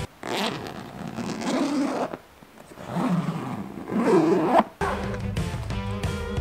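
Up close, the zipper on a minimalist backpack is pulled open and closed in several long rasping strokes, with a short pause between pulls and a final quicker zip.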